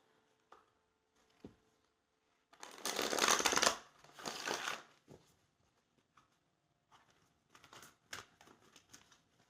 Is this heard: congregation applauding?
no